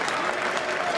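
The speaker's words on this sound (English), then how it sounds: "A round of applause for Team Europe, everyone." Brief burst of crowd applause for Team Europe at the 2018 Mosconi Cup pool event, a dense, steady clatter of many hands heard alone.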